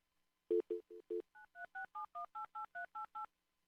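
A telephone keypad being dialed, one string of twelve crisp DTMF beeps in a steady rhythm, clear and alone with no talk.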